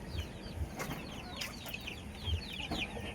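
Hens in a backyard breeding pen, a few close soft clucks and low grunts scattered over a quiet background, no talking.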